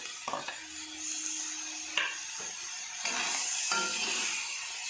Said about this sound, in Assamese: তাৰপিছত মই বিলাহীখিনি এড কৰি দিওঁ।